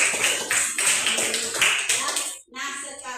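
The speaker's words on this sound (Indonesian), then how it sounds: "Tepuk tangan buat kita semuanya." A school class claps hands together in a few rhythmic bursts of sharp, close slaps, with voices mixed in. The clapping stops briefly near the end, then a few more claps follow.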